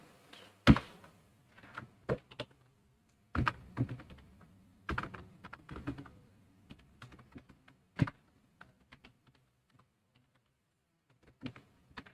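Computer keyboard typed on in short, irregular bursts while writing a C program, with close, crisp clicks and a few heavier key thumps separated by quiet pauses.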